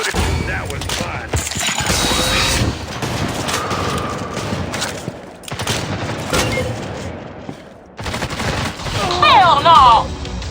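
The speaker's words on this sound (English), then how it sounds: "Reloading." Gunfire, weapon mechanism clicks and reload sounds in the video game Critical Strike during a team deathmatch, with bursts of shots and clacking through the whole stretch and a bright chiming effect near the end.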